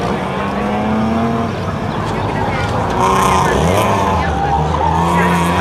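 A BMW 320 classic rally car on a Gran Canaria spectator rally stage, its engine revving and shifting with tire noise, loud and close beneath continuous commentary from a speaker.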